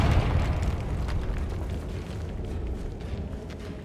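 The Confringo fire spell from the video game Hogwarts Legacy explodes in a loud, close, rumbling blast that roars steadily and fades slowly over a few seconds.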